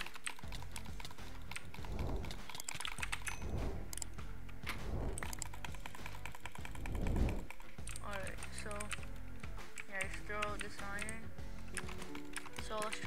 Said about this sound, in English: sorry if my keyboard is a little loud